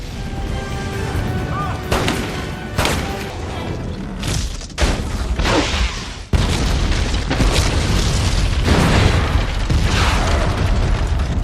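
Loud booming blasts and bursts of a ship exploding in a film, with several sharp bangs followed by rumbling, chaotic noise that stays dense and forceful throughout.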